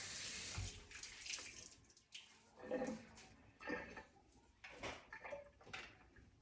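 Tap water runs briefly at a sink to wet a dish cloth used for wiping up baking flour, a close splashing rush that starts and stops in short bursts.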